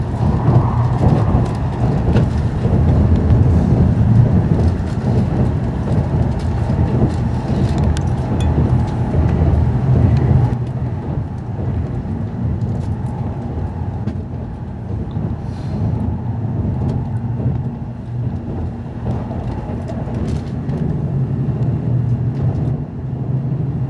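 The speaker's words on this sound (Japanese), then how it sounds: "小刻みなジョイント音が新幹線としてよく聞こえる場所です。" Constant loud rumbling inside a Nozomi Shinkansen Green Car, with dense broadband roar and fast rail-joint clatter running throughout, easing slightly about halfway through.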